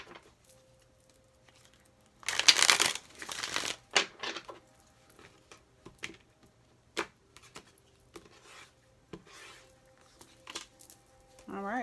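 Tarot cards are shuffled in a quick riffling burst, followed by softer scattered card taps and slides at close range with quiet gaps between them.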